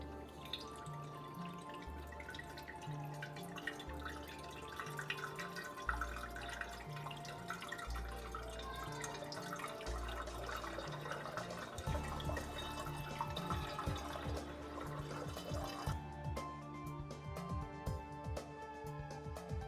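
Water trickles and drips steadily through a small funnel into the boiling flask of a steam distillation setup for juniper essential oil, with a faint glassy ring and thin splashing that continues throughout.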